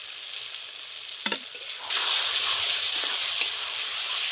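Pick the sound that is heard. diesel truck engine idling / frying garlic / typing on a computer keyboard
frying garlic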